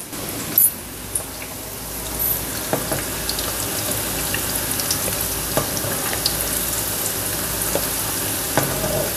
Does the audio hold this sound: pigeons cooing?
no